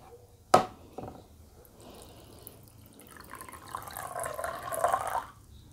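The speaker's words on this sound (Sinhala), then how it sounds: "දැන් ඔන්න මේ අතින් තමයි අපි මේ භාජනයට වතුර එක දාන්නේ" Water is poured by hand into a vessel in a quiet room, starting with a sharp knock and a small clink, then a soft trickle that swells into a steady splashing pour before stopping.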